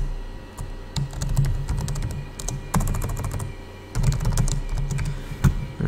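Keys clatter on a computer keyboard as a name is typed into a WordPress contact form field, a steady run of close, crisp clicks in uneven bursts with short pauses and no voice over them.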